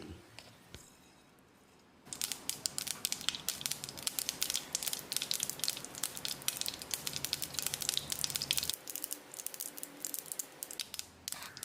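Dense crackling sizzle of mustard seeds popping in hot oil, starting abruptly after a quiet moment and continuing steadily, close and bright.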